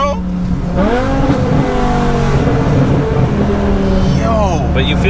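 A BMW M5 with a stroker V10 engine accelerates hard, its note climbing through rising sweeps with quick shifts, loud and close inside the cabin while a person talks over it.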